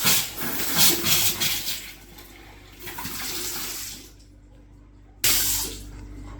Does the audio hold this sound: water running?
yes